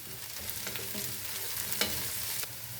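Garlic, chopped shallots and curry leaves fry in a pan for beef ularthiyathu, a steady close hiss with a few light stirring clicks and pops, no voices.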